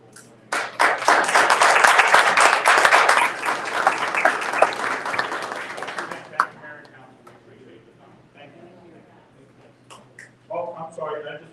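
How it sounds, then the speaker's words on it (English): An audience at an Asbury Park city council meeting claps for a police sergeant, loud and dense for about six seconds, then fading into scattered claps while people talk nearby. "I think he deserves a round of applause"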